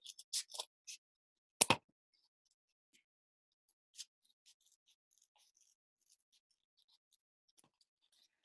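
Sharp scissors snipping through a tough kitchen sponge to cut out a stamp design, a few crisp close cuts at the start and one louder crunching snip, then faint scattered clicks in near silence.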